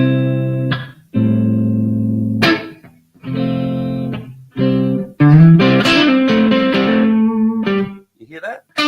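Picked electric guitar notes and chords in short phrases separated by brief pauses, bright and slightly effected, growing busier toward the end.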